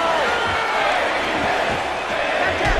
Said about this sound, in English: And the crowd continues to rally behind Lights Out.